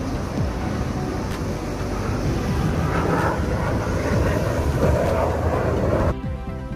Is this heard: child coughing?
no